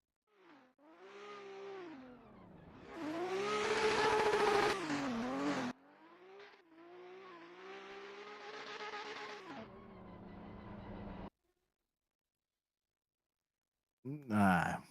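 A race car on a qualifying run drops a tyre off the track. The engine revs rise and fall in wavering sweeps, loud and close, then cut out abruptly, leaving silence before a short final burst of engine noise.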